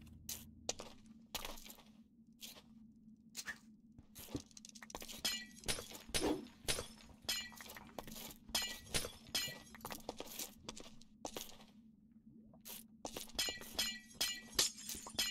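Glass blocks break repeatedly in a video game, sharp crisp shatters arriving one after another in quick bursts, some rapid clusters and some spaced apart, over a low steady hum.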